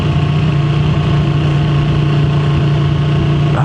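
A Ducati Panigale V2 sport bike engine, 2024 or 2025 model, idles steadily at close range with a deep even hum, loud and constant throughout with no voices over it.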